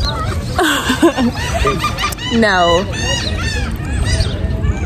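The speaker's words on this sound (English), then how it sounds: "I don't even know if you can see it, but you hear it. All the birds." Seagulls call loudly around a beach on the Ocean City coast, with harsh overlapping cries close by, while people talk under and between the calls.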